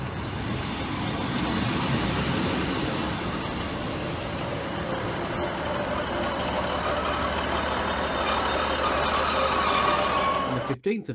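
A delayed passenger service from Crewe to Newark rolls past on the railway line, a loud steady roar of wheels and carriages with faint high squeals that drops away abruptly at the end.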